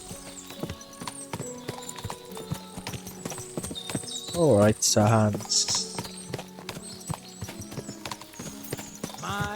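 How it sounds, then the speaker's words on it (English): Horse hooves clip-clop steadily in the video game Kingdom Come: Deliverance II, a close rhythmic trot under voices talking, with a brief horse whinny partway through. "My, what a beautiful horse."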